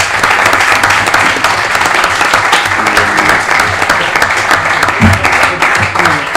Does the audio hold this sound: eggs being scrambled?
no